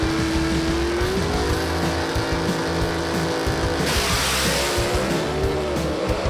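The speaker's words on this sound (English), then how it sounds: "This is a good drag race right here as Varner on the light" Loud, close roar of 1955 Chevy big-block gasser drag cars launching and accelerating, engines blaring continuously with tire squeal and a sharp shift in tone partway through.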